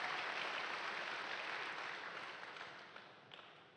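A church congregation at a Sunday service claps in a dense, steady wash of applause that gradually fades over a few seconds.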